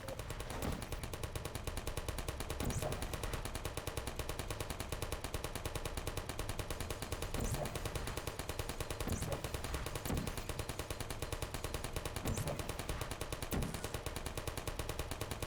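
Sustained machine gun fire from a live fire course in the game Portal, a dense, continuous rapid rattle of shots that runs loud and steady with no talk over it.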